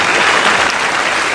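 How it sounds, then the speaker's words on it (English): A burst of applause, dense steady clapping from a crowd, loud and continuous throughout. "We'll give that a little applause."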